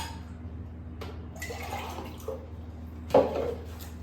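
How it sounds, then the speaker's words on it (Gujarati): Water goes into a pot of ragda, heard as soft pouring sounds and then one brief, louder splash near the end against a low background hum. "હવે આપણે પાણી એડ કરી લઈશું"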